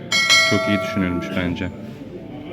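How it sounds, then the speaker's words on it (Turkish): A restaurant table call bell pressed to summon a waiter gives a few bright, ringing electronic chimes, close and fairly loud, while someone speaks over them. "Zile bastım ben de."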